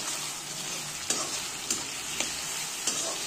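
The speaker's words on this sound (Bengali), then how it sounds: "ভালো করে নেড়ে চেড়ে নেব।" A spatula stirs chopped capsicum and tomato sizzling in a hot pan for vegetable chow mein, with a steady frying hiss broken by four light scrapes or taps spaced about half a second apart.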